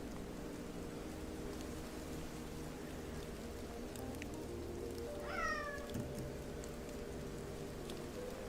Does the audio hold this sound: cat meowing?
yes